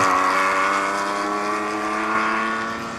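A canary yellow rally car passes a struggling Puma on the Mall's Gap stage of the Summit 2000 Rally, its engine a loud, close, sustained note that eases off slightly toward the end.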